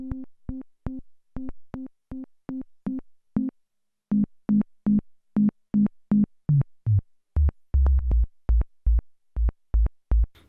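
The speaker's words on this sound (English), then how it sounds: "Now we're going to pull the cutoff down and increase the resonance to the max." Korg Minilogue synthesizer with the filter cutoff lowered and resonance at maximum, a fast run of short plucky blips that steadily drops into deeper, thumping resonant tones, dry and close.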